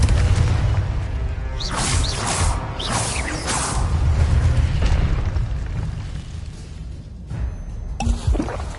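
Spells cast in Hogwarts Legacy, including fire and blasting spells, burst out in a close, loud cluster of whooshes, crackling pops and deep booming explosions, rumbling on with a final sharp burst near the end.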